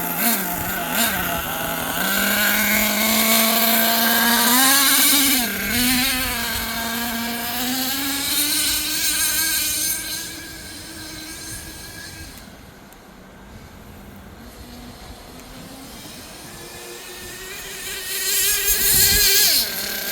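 An HPI Savage XL V2 RC monster truck, a nitro-powered model, drives with a loud buzzing, high-revving engine whose pitch climbs and dips as it accelerates, easing off briefly midway before revving hard again.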